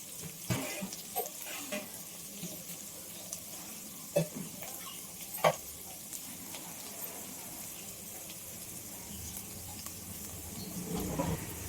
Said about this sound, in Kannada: 2 ನಿಮಿಷ ಫ್ರೈ ಆಗಲಿ.